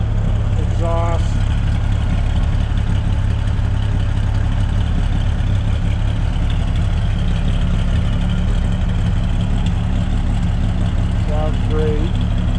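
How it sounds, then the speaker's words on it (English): A 1953 Chevy 3100 five-window pickup with an inline six idles steadily at the exhaust, a loud, deep, constant rumble with brief ticking noises near the start and end. "Flip the back so you can hear the exhaust"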